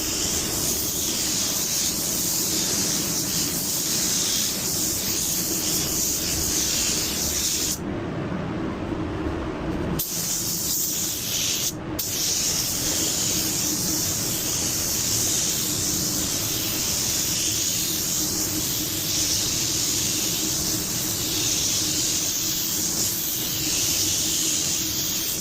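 A paint spray gun at full fan and full fluid, set to 20 psi, lays down coating in a loud, steady hiss that runs nearly the whole stretch, broken by one brief pause and a short cut-off.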